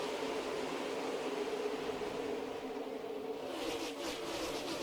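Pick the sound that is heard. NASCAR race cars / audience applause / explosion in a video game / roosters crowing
NASCAR race cars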